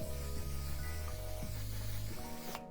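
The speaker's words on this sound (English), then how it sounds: "do one final set with the One Size setting spray" A short, steady hiss of a setting spray misting, close by, ending abruptly after a couple of seconds.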